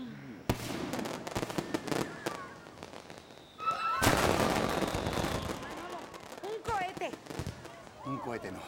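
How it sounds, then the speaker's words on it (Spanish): Firework rockets burst in a sharp, crackling series, with loud bangs and sputtering pops clustering around the middle, while people shout and talk over the noise. "Cohete no, te voy a echar 6 cohetes."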